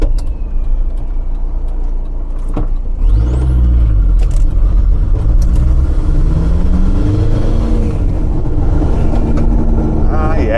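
Volkswagen TDI diesel car with a suspected MAF sensor fault driving on a road, its engine a steady low rumble inside the cabin that rises in pitch as it accelerates, continuous throughout.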